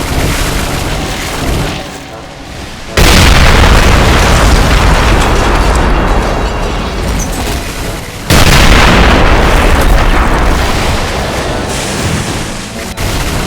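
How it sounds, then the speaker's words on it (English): Artillery fire in a toy war video game, delivering heavy, loud booming explosions that surge in two big waves and rumble continuously in between. "And there's the artillery."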